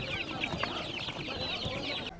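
Chickens clucking at a busy poultry market, a dense, continuous chorus of clucks and squawks from many birds close by, with market bustle underneath.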